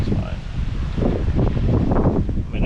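Steady outdoor wind buffets the microphone with a low rumbling roar and rustle throughout, while muffled sounds of nearby work on an '88 Mazda B2200 pickup's brakes come and go.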